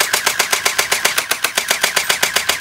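Rapid bursts from an airsoft gun shooting at a target in a backyard obstacle course, a steady run of about fifteen sharp, evenly spaced shots, close and loud with no talking.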